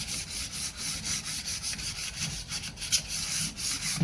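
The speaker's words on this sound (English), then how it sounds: "I'm going to rub it all the way up and down, scuff it up, get all the edges and everything." A steel bar clamp's bar being rubbed up and down to scuff it, giving a steady, close scraping texture with rhythmic strokes throughout.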